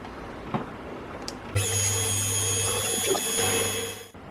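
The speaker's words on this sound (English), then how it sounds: "I successfully drilled that hole over in the drill press" A brief tap, then a drill press starts with a steady whine and low hum, drilling stainless steel for a couple of seconds before cutting off.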